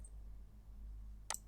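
A computer mouse gives a single crisp click near the end of a quiet stretch, followed by a second faint tick, close and isolated over a low hum.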